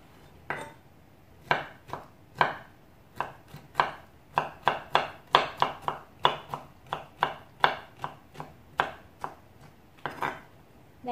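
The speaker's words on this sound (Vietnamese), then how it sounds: "Đây mình sẽ xắt nó nhanh mỏng mỏng như vậy." A knife chops ginger into thin slices on a cutting board, giving a steady series of sharp, close taps in a quiet kitchen.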